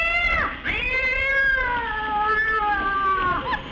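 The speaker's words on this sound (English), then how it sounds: "Cats, huh?" Cats meow in long, drawn-out wails, a couple of loud, close cries running almost continuously with a short break near the start, set in a 1949 Olsen & Johnson comedy television show.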